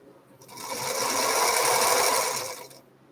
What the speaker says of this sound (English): She's a pretty little green sewing machine